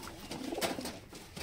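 A pigeon coos quietly beside its nest of two-day-old chicks, giving a short run of muffled, rolling notes close up in a still room.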